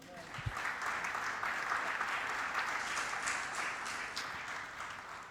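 A church congregation applauding the Lord at a prophetic service, sustained mid-distance clapping from many hands, steady and moderately loud throughout.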